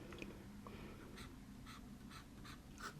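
A fine steel-nib fountain pen scratches across paper in short, quiet strokes, each one a faint close rasp with small gaps between, heard alone in a hushed room.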